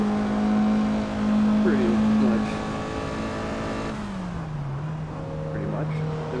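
Steady engine drone of a Miata in Assetto Corsa on LA canyon roads, the pitch dropping as it shifts gears, with someone talking over it throughout.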